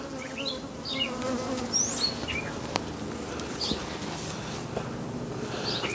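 Honey bees crawl over honey-filled hive frames during a bee cutout, giving a steady close buzzing drone throughout, with short higher whines from individual bees passing near.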